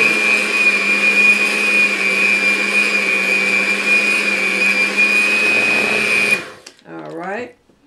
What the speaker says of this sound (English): Make sure you mix the butter in real good with the sweet potatoes.